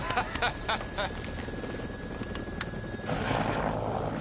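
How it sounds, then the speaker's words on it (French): A helicopter in the video game Dead Rising flies with a steady whirring drone under game sound, with short clicks early on and a louder rushing swell toward the end. "qui se dirige avec un mec en hélicoptère pour se rendre dans la ville là-bas justement"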